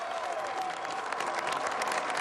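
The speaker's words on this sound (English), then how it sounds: "being applauded by Pepe Oriola" Crowd applause at a WTCC 2013 touring car race podium ceremony at the Slovakia Ring, steady sustained clapping from many people with light cheering in the background.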